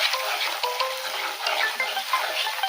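Kashmiri chilli powder and coriander powder sautéing in a pan for begun sundari curry, a bright crackling sizzle with light stirring scrapes, close and steady throughout the short stretch, no talking.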